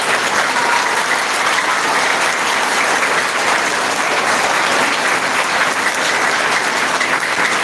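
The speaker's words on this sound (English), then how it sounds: "Please give a round of applause." Audience applause at a school investiture ceremony, a dense, sustained round of clapping from a large crowd in a hall, steady and loud from start to finish.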